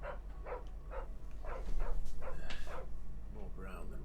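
A small brown-and-white dog in a video game barks and yips in short bursts, about six or seven of them, at moderate loudness over a steady low background drone.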